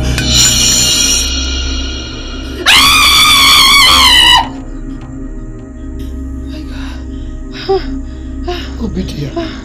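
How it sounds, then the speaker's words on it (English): A person screams in a long, loud, wavering cry with gasping and whimpering before it, then quieter breathy sounds and low background noise afterward. "Why are you screaming?"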